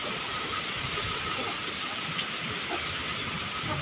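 Strong wind blows steadily during extreme weather, a continuous broadband roar with gusty hiss and no break, loud and close, with no voices.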